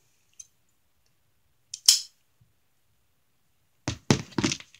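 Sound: scissors cutting off a yarn end

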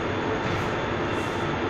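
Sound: Mumbai local train at CSMT railway station

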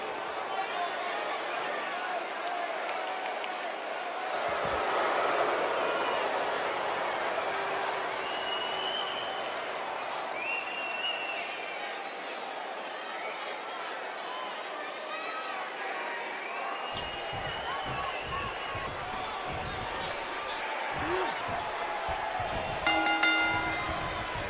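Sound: wrestling crowd cheering before the match

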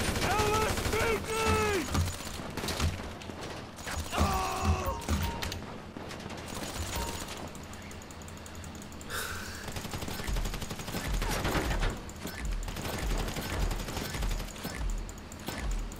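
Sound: gunfire in GTA 5 Online video game

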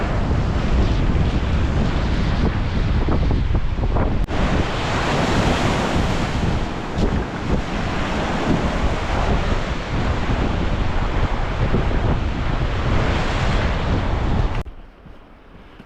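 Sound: sea waves and wind on a beach

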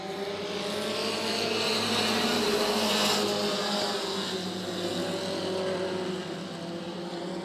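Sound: race car accelerating at Senoia Raceway

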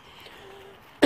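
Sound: cough

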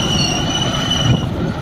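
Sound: tractor engine running

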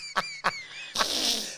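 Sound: person imitating a bird call

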